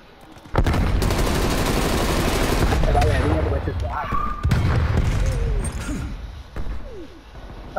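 Rapid bursts of gunfire and a grenade blast in a Call of Duty Black Ops Cold War team deathmatch, loud clattering volleys that rise and fall over several seconds, with a player speaking over the action.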